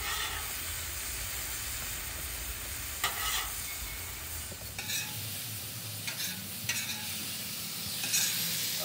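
Food sizzles steadily on a hot Blackstone griddle cooking hibachi steak, chicken, shrimp and onions outdoors, a continuous close frying hiss with occasional scraping and clicks of a spatula.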